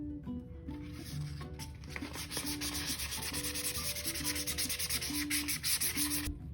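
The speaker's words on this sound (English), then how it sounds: "prep the surface by lightly sanding it with 400 grit sandpaper" Light hand sanding of a plastic doll table with 400 grit sandpaper, a soft steady rasping rub in close repeated strokes, fairly quiet and alone.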